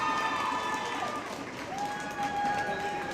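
Spectators cheering during the final period of a U15 AA playoff bronze-medal hockey game between the Bulldogs and Pirates; a distant, reverberant arena crowd roar with a sustained tone, beneath a commentator's play-by-play.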